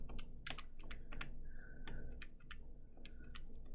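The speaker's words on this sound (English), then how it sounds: "now is the moment where you guys hear the clacking of my calculator" Calculator buttons clack in quick, uneven bursts of sharp clicks while a heat exchanger problem is worked out, close and fairly quiet, with no talking.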